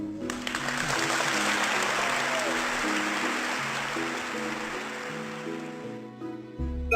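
Long, dense ovation from a large Academy Awards audience for an Oscar winner, steady crowd clapping throughout with soft orchestral music playing underneath and rising at the end.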